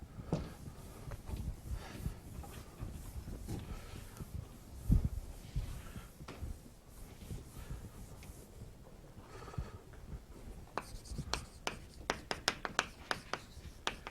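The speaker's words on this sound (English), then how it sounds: "Can I erase this word?" Chalk is erased from a blackboard during a university astronomy lecture: faint, irregular scrubbing and scratching strokes with a few sharper taps near the end, heard at a distance in a quiet lecture hall.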